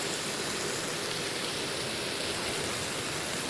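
Water poured into a pan of cauliflower and potato curry over fried spices gives a steady, close rushing hiss that lasts throughout, with no voices.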